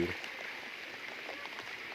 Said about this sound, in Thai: น้ำไหล